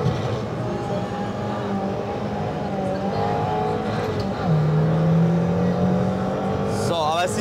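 A race car engine drones and revs at a car show event, its pitch climbing and shifting with a louder surge midway, while people talk over it.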